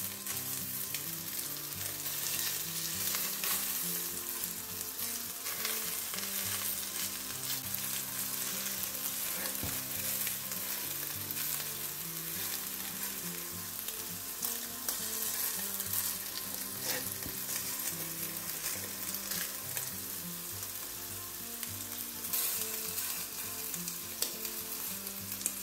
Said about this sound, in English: once our meatballs start taking on a bit of colour, we can start turning them over